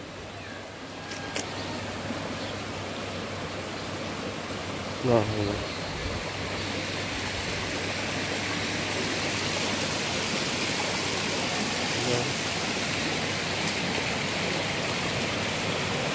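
Floodwater after heavy rain runs over an asphalt street in Kampung Bugis, Tarakan, a continuous loud rushing wash throughout, with a brief exclamation from a person and a faint steady hum beneath.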